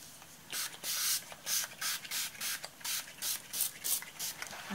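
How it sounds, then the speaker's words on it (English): Water spritzed from a spray bottle onto a mixed media journal page, about ten quick hissing pumps in a steady rhythm, close and fairly quiet with no talk. "I will spray some water so this will move nicely."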